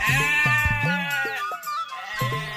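Goats bleat loudly and close by, several wavering cries following one another in quick succession.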